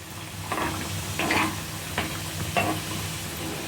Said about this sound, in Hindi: तो बीच बीच में पलटते हुए इसे हम फ्राई कर लेंगे और बीच बीच में इसे हम इस तरीके से हिलाते भी रहेंगे